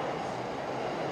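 Yamanote Line train at Shinbashi station in Tokyo, heard as a steady, fairly loud rumbling wash of rail and carriage noise with no distinct clacks, continuous throughout the short moment.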